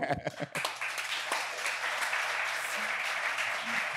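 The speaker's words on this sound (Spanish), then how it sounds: "Yo los aplaudo, hermano." Applause from a crowd swells after a brief burst of voice at the start, then continues as a steady wash of clapping.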